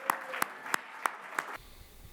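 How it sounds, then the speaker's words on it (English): A debate audience at a Libertarian presidential debate in California gives a brief, sparse round of applause, a handful of distinct claps spaced out over about a second and a half before it falls quiet. "A final round of applause."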